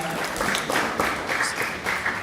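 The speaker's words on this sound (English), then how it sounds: "Yes, we could applause for that." Applause from an audience at a Hispanic Heritage program in Paterson, New Jersey, a steady wash of clapping filling the room for a couple of seconds at moderate volume.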